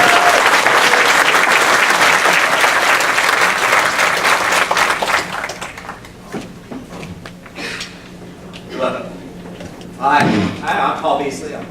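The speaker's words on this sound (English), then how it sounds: "Please give a round of applause for our moderator this evening, Dr. Paul R. Beasley." Audience applause at a state university senate debate, dense clapping filling the hall for about five seconds before thinning out, followed by scattered thuds and a speaking voice.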